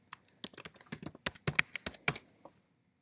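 Quick bursts of keystrokes on a Mac computer keyboard as a login password is entered, about a dozen close, crisp clicks in an uneven run that stops after two seconds.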